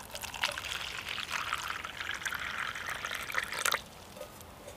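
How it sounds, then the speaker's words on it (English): Water pours steadily into a bushcraft container waterproofed with pine pitch, a close, continuous splashing trickle that stops sharply near the end, followed by a faint drip or two. "I think we should put some water in it and see what it can do"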